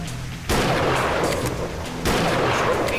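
Two loud rifle shots crack about a second and a half apart in the hunting game Deer Drive, each leaving a short ringing tail.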